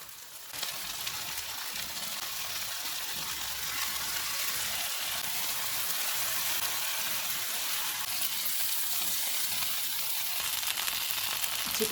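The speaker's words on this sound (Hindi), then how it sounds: "थोड़ा थोड़ा बटर लगाएंगे और इनको सारी साइडों से गोल्डन ब्राउन होने तक पकाएंगे।" Chicken malai boti pieces frying in butter, giving a steady, close sizzle with fine crackling that holds for the whole stretch, with no voices over it.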